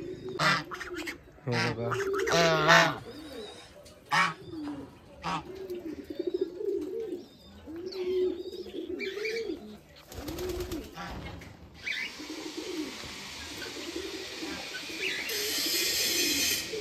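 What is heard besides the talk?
various birds at a hotel, ducks and pigeons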